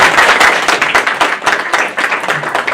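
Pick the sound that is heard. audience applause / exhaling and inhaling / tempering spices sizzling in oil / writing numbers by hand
audience applause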